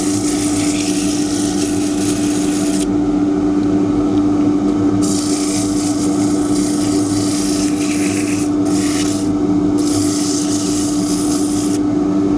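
Abrasive at 120 grit rubbing down the inner side wall of a turned wooden box with a suction-fit lid on a running lathe, a steady close-up scratchy hiss over the constant hum of the lathe, with no talk.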